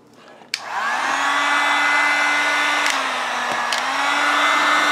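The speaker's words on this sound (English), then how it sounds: "I'm going to turn on my heat gun" A heat gun switches on with a click and blows hot air steadily to warm a plastic water bottle, a close, constant whirring hiss with a couple of brief clicks and no talking.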